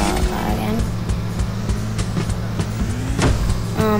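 An engine hum and tire sounds from a car driving in the video game Sneaky Sasquatch, steady and fairly loud, with short clicks and game effects over it.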